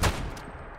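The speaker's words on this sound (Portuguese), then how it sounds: "Bom que essa escopeta de perto é um tiro só." A shotgun fires once at close range in the Fallout 76 video game, a single loud blast at the start that fades quickly into a short rumbling tail.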